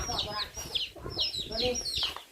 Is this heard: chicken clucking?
yes